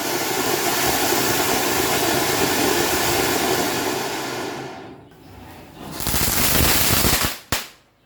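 Spinning firecracker burning at a Vishu celebration gives a loud, continuous fizzing hiss for several seconds, dips briefly, then surges again before ending with a sharp pop.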